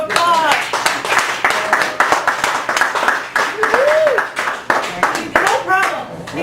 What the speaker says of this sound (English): then give Jim a big round of applause.